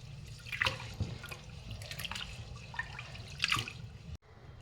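Rice for chicken biryani is swished and rinsed in water, producing close, soft sloshing and dripping splashes in irregular bursts, with a brief clunk near the end.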